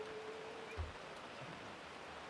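Rain pours steadily at an outdoor men's club lacrosse game between Florida State and Georgia, a continuous broadband hiss with a single dull low thump partway through.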